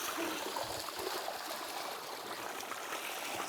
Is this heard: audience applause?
no